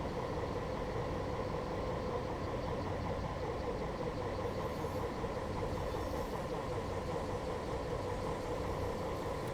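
Diesel train in Train Sim Classic pulling away from Newport on the South Wales Coastal line, a steady droning engine hum with constant rumble, mid-level and unbroken, no talking.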